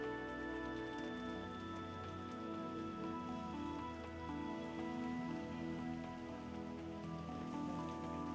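Monsoon rain falls in a steady, even patter on surfaces, soft and continuous, with faint tonal music running beneath it.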